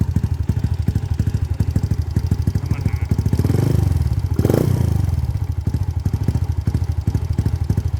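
A modified car's engine idles with a rough, loping exhaust pulse, swelling into a brief louder rev in the middle before settling back to the lumpy idle, close and unbroken.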